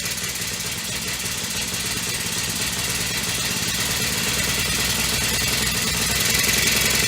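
A Honda mini tiller engine idles steadily and slightly low close up, a rapid even knocking putter that grows slightly louder toward the end.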